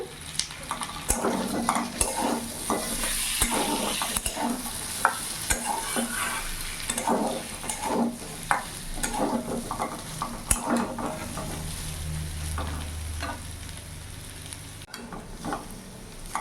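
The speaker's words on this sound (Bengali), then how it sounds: "মিডিয়াম আঁচে আমি কষিয়ে নেব।" Boiled taro cut with spices and slit green chillies is stirred and sautéed over a medium gas flame, with repeated spatula scrapes and knocks against the pan over a continuous sizzle, close and fairly loud.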